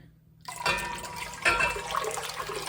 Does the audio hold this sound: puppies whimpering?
no